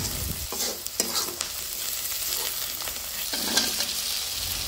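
Spices with ginger-garlic paste stir-fried in a pan for a village-style fish curry, with steady sizzling under repeated scraping strokes of a spatula, close and continuous.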